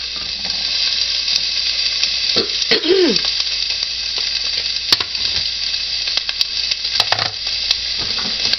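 Sliced Egyptian walking onions sizzling in a pan, a steady close hiss with scattered clicks and scraping clatter from stirring, no talk.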